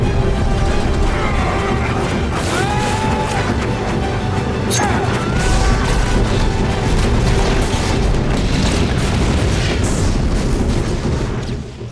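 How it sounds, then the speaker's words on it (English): A huge fuel truck explosion from the action film Mad Max: Fury Road, a loud, sustained roar of booms, crashes and bursting debris that fills the whole stretch without pause. "I'd say the people eater fuel truck explosion was a big deal."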